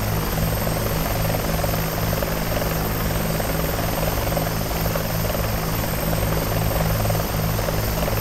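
A Bell 412 helicopter in the X-Plane 11 flight simulator game gives off a constant loud rotor thrum and engine whine, steady and unbroken throughout with no talking.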